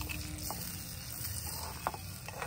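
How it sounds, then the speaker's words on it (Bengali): Chicken kosha sizzles and fries in a toy mini kitchen pan while being stirred, a soft, steady crackle with a few light scrapes and taps, fairly faint and with no voices. "এবার আমি নেড়ে দেব।"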